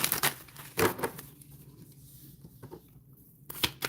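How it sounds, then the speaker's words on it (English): A deck of tarot cards being shuffled by hand, heard as close, quiet crackling bursts at the start and end with a near-silent gap between. "Let me do a quick shuffle."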